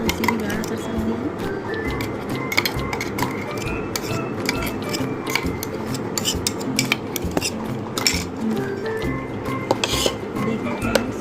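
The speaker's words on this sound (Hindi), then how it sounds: "अब इसको मैं मिक्स कर दूँगी।" A spoon stirs mango puree in a cooking pot, giving steady, close scraping and clinking against the metal with soft squishy sounds, while someone talks over it.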